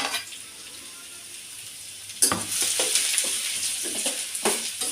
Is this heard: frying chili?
yes